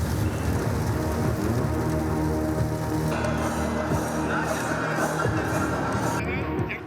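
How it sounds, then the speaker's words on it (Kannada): Heavy rain pouring in Bengaluru, a dense continuous roar of drops on surfaces throughout, with the texture shifting midway as if the view changes. "ಸಿಲಿಕಾನ್ ಸಿಟಿಯಲ್ಲಿ ಮಳೆರಾಯ ಅಬ್ಬರಿಸಿ ಬೊಬ್ಬಿರಿಯುತ್ತಿದ್ದಾನೆ"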